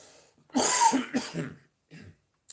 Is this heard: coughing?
yes